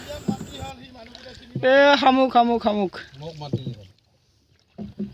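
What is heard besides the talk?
boat moving on water during a boat ride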